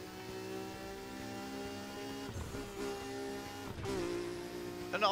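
A speed-class car engine in a video game holds a rising, tonal whine, with shifts and revs near the end and a short squeal-like burst, loud and close, with no talk.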